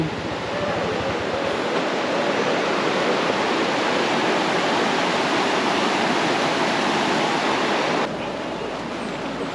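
A flowing river near the Balagbag waterfalls rushes in a constant, loud broadband roar of water, with no voices over it.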